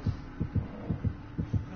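Heartbeat sound from the video game Dead by Daylight, a steady low double thump repeating about every half second, loud and close with no talk over it.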